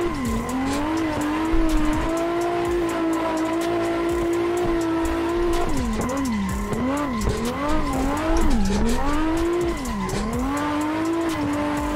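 A long race car in the Assetto Corsa driving game, its engine droning steadily before revving up and down through gear changes while tires squeal and skid in bursts, loud and close, no talk.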